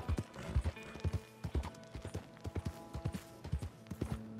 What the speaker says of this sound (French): Plutôt cool, les animations avec les chevaux et tout,